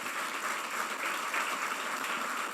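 A church congregation claps continuously in a dense, even wash of applause, with no talking over it.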